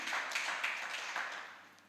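Church congregation clapping in unison during a worship service, a steady run of claps that fades out toward the end.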